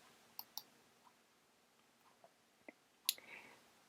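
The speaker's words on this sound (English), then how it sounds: "I'm going to click on this" Sharp, faint computer mouse clicks in a quiet room, a few scattered single clicks then a louder one near the end, no talking.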